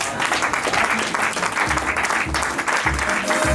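A crowd applauds at a church wedding blessing, dense steady clapping filling the room with low thumps and a few vocal murmurs mixed in underneath.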